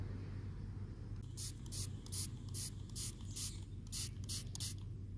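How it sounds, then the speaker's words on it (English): Toy spray bottle at a pretend soccer game gives a series of about nine short, sharp hissing puffs in a loose rhythm, close and fairly quiet against a low background hum. "do you want some spray to keep you nice and refreshed?"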